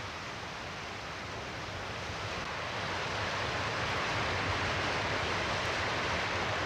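A steady, broad rush of hurricane surf and wind, loud and unbroken, swelling slightly toward the end with no voices.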